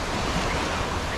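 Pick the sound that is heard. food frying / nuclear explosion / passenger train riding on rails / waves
waves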